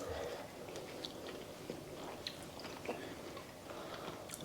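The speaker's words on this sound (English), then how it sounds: "Am I chewing it for too long?" Close, quiet chewing and biting of a tiny extremely hot nut, soft crunchy mouth sounds running steadily through a few seconds with faint background noise and no talk.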